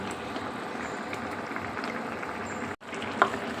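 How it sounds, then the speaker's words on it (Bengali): A pot of rohu fish curry with peas bubbling at a steady boil, a constant soft rumble with a brief dip in the sound near the end. "তো এই তো বলক এসে পড়ছে"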